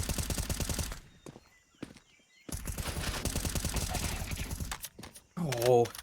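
Rapid automatic gunfire in a Counter-Strike match fills the opening and middle stretches in fast rhythmic bursts, broken by short quiet gaps and a few single shots, with a commentator talking over part of it.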